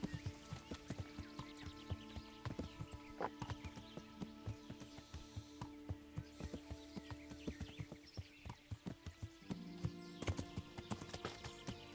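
Horse hooves clip-clopping at a steady walking pace in the medieval video game Kingdom Come: Deliverance. Soft repeated hoofbeats run under in-game ambience, with a brief whinny and some faint talk.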